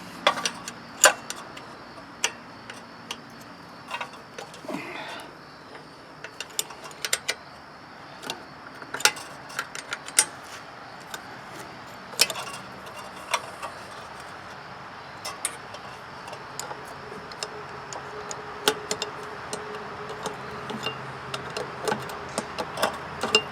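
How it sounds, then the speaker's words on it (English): A 3/8 wrench working the last bolt on a rototiller carburetor, giving a long series of light metallic clicks and ticks in uneven bursts, close and fairly quiet, with no talking. "I should be able to get a 3/8 wrench onto that last remaining bolt."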